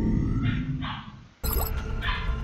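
A dog in the video game XCOM Enemy Within barks a few times, two quick barks close together, then a sharp break and another bark after a short pause, fairly near.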